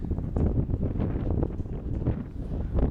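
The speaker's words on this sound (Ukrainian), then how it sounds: "Дме вітерець такий добрячий." Steady outdoor wind buffets the microphone with a low, rumbling roar that swells and eases in gusts throughout, with no clear voices over it.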